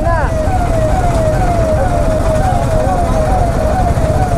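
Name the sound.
ambulance siren in traffic jam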